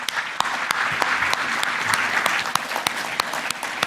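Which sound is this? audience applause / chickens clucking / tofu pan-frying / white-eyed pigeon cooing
audience applause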